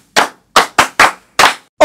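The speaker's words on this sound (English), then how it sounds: "Clap for yourselves." Children in a classroom clap for themselves: about six sharp, separate claps spaced unevenly over a second and a half, loud and close, with no talking.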